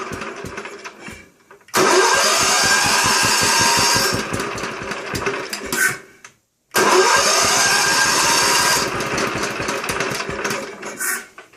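A hot-wired motorcycle-type engine being cranked, two long loud rapid churning bursts separated by a short pause, failing to catch, close up with no talking.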